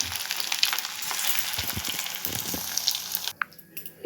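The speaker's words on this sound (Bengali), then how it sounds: "এবার একটা একটা করে ডিপ ফ্রাই করে নেব।" Shaped snacks deep frying in hot oil, a steady dense sizzle and crackle filling the clip, dropping abruptly near the end to quieter intermittent bubbling.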